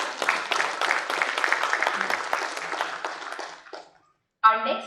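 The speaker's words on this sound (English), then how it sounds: "Can we please have a round of applause," Audience applause fills an industrial summit's inaugural session for SME manufacturers and exporters. The dense clapping holds steady for several seconds, tapers off into a short silence, and then a voice begins speaking.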